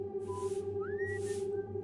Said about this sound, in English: The whistling continued. The sweeping continued.